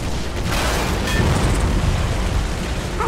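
Flak bursting around and striking a plane in the video game Uncharted: Drake's Fortune, a dense continuous roar of booming explosions and rumble that stays loud throughout.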